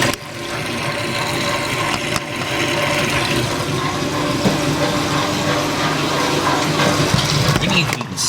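A 1996 Whirlpool direct drive washer pumping water out during a towels normal cycle: a steady, loud whooshing rush of draining water with a low motor hum underneath, unbroken throughout.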